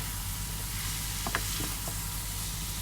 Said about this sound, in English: And my onions are sauteing.